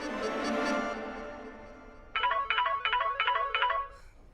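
A mobile phone ringtone plays a repeating electronic melody in four quick bursts, fairly close and clear, after a brief stretch of other sound.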